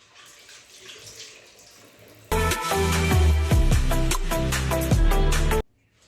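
Tap water runs hard into a sink for face washing, a loud, steady splashing rush that starts abruptly after a quiet room and stops cleanly about three seconds later.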